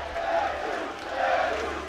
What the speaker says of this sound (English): We're watching a living legend do his thing and the crowd chanting Jesus